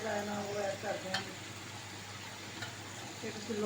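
Masala for chicken biryani is stirred and fried in hot oil in a pot, a soft close sizzle with intermittent scraping stirs and faint speech in the background.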